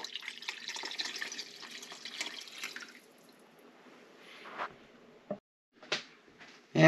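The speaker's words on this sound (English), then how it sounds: "Adding the milk. Probably going to take about 3 glasses full." Milk pours from a glass into a slow cooker crock for homemade potato soup, a steady liquid stream for about three seconds followed by a few short splashes and drips, close and fairly quiet.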